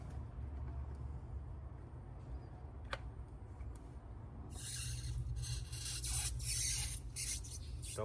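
Double-sided tape strips pressed and rubbed onto aftermarket LED DRL light strips on a 2024-or-later Ford F150 truck, heard as quiet scuffing and rasping that grows louder and busier in the second half.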